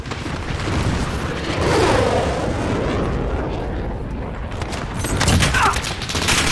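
SKS rifle gunfire in a video game, heard as dense, rumbling distant shots and booms that blend into a continuous roar of battle noise, with louder swells near the start and the end.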